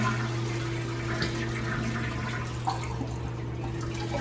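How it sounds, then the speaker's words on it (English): Water rushes and gurgles steadily as a Glacier Bay toilet is flushed to empty the bowl, a continuous close wash over a low hum, with no voices. "to actually flush the toilet and get the water out of the bowl"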